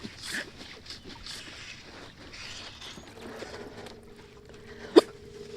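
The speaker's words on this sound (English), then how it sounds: "Oh, I got the hiccups now." A person out fly fishing for bass and musky on a boat on Eagle Lake hiccups once, a single sharp, close gulping burst near the end, amid low boat and water rumble.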